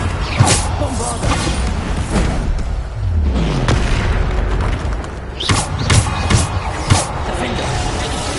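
Bombarda blasting spells explode in Hogwarts Legacy combat, a dense run of loud booms, thuds and crashing bursts with deep low rumbles, a voice calling out among the impacts.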